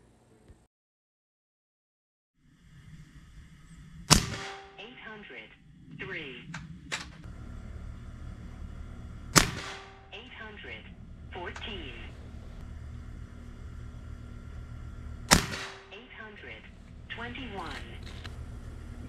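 Three sharp shots from a 9mm AEA Challenger big bore bullpup air rifle fired at 35 yards, spaced about five seconds apart, each a loud crack followed by mechanical clatter, with a voice talking between shots.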